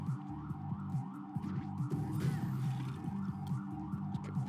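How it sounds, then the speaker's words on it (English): A wailing ambulance siren, stationary outside a window, rises and falls steadily, fairly close by, with traffic rumble underneath and no talking. "the ambulance is literally outside my window right now"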